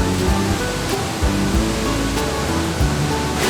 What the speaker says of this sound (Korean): 폭포가 높이가 약 20m 정도 되는데 위에서 3번 꺾여서 물이 떨어진다 해서 삼부연 폭포거든요